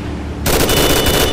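Rapid automatic gunfire in the GTA game Frosted Winter, starting abruptly and continuing as a dense, loud burst of shots.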